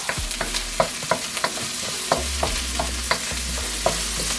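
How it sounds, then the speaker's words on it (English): Chicken and shrimp sauté in a lightly greased pot, a steady close sizzle with regular scraping stirs and clacks of the utensil against the metal, and no voices. "We're gonna saute this."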